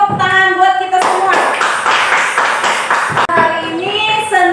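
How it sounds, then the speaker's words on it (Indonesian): Children in a classroom clap together in a burst of rhythmic hand claps, with a teacher's voice and kids' voices speaking before and after the clapping. "tepuk tangan buat kita semua"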